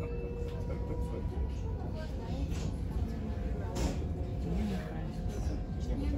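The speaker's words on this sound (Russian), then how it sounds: "Сейчас едем в электричке до Адлера" Inside an electric commuter train bound for Adler, a steady low rumble and rattle of the carriage runs throughout, with scattered clicks and a person talking over it.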